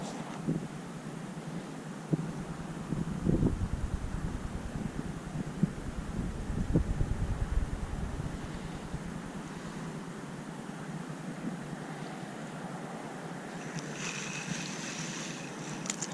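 Steady wind rushes across open ice during ice fishing, a broad continuous roar buffeting the microphone with gusty swells, heard alone at moderate level.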